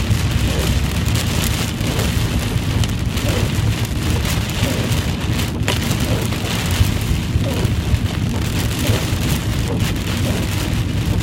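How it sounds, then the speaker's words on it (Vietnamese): Heavy rain pours steadily on a road, a dense continuous roar of drops with a deep rumbling undertone throughout, loud and close. "Ở ngoài thì mưa nó sát luôn."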